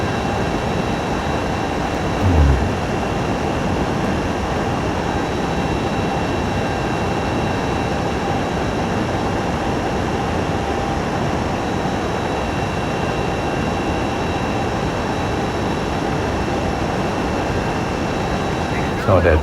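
A Darkstar hypersonic jet in Microsoft Flight Simulator flies fast, making a dense, constant roar that holds steady at a loud level throughout with no breaks.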